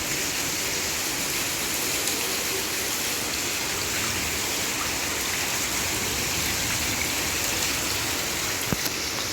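Steady, dense rainfall pours down without a break in Bengaluru, a continuous broadband hiss of heavy rain with no voices.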